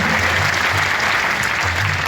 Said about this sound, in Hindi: एक बार भैया के लिए ताली बजाओ जोर से, सम्मान दो उनको।